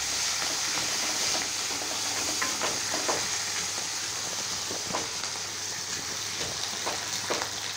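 Tomatoes and other ingredients for a field crab soup are sautéed in a pan, producing a steady, close hiss and sizzle. Scattered scrapes and taps of the stirring spoon sit over a faint low hum.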